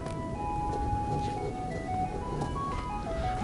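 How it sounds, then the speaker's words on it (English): Ice cream truck jingle playing at a distance, a thin repeating melody carried over faint traffic rumble outside a house during a roof inspection. "Haven't heard an ice cream truck in years."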